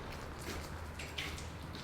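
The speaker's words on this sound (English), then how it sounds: "That is some rough rain." Heavy rain falls outside a rear-wheel-drive FR-S car as a steady, soft broadband hiss that holds even throughout, with no voices.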